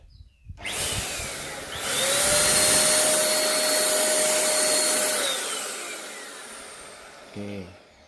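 A Multipro ESP 99HP electric spray gun painting a Yamaha Scorpio motorcycle engine whirs up into a loud, steady, whining motor drone for several seconds, then winds down, with a short clatter at the end.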